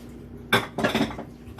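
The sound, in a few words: dishes clattering as they are put in the sink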